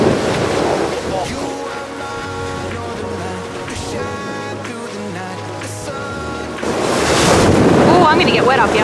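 Rough Mediterranean Sea waves crash and surge around a sailing catamaran amid heavy wind noise, loud and continuous, with voices faintly under the roar.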